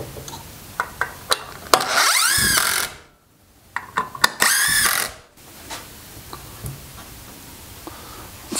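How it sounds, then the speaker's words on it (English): A power drill drives screws into wooden boards for a printer table: two loud whirring bursts with rising pitch, separated by clicks and knocks of handling the wood, close by. "I'm gonna go ahead and start screwing things together"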